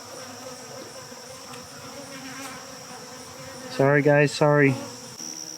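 Honeybees buzz softly and continuously nearby, a small group of bees with a queen, before a voice briefly speaks over the hum near the end.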